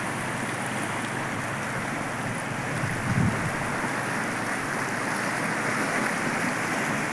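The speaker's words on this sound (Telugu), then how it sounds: "నదీ హోరు." The Kundu river flowing in spate, carrying water hyacinth downstream: a steady, broad rushing roar of moving water, continuous and fairly loud throughout, with a slight swell near the middle and no voices.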